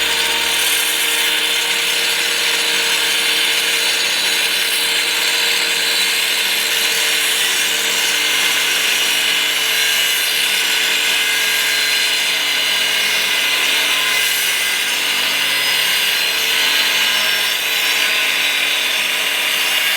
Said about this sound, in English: I'm kind of tempted to cut this top piece off.